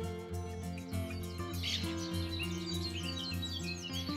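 Four two-week-old blackbird chicks chirp at the nest in spring, thin high calls repeating over a steady low hum, fairly close but faint.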